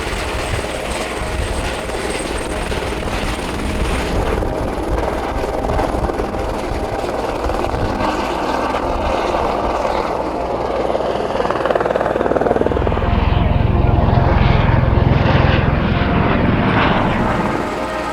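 A helicopter flies steadily overhead with continuous rotor thump and engine whine, chased by an FPV racing drone; the drone's buzzing props can be heard alongside it. The sound swells louder near the end as the aircraft passes closer.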